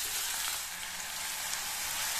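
Ground paste of two medium onions frying in hot oil for a capsicum kara kuzhambu, a steady loud hiss and sizzle with fine crackle, continuous and close, with no voices.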